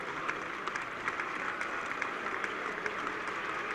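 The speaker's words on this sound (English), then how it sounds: "Anyway, applause from the crowd." Steady applause from a crowd at Lord's during the fifth day of a 1976 England v West Indies cricket Test match, heard distant and even throughout with scattered individual claps.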